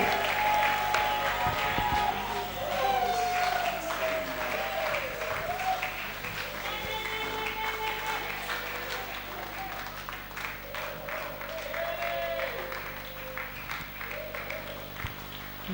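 A church congregation at a women's convention claps along steadily for a long stretch while voices sing and speak over it.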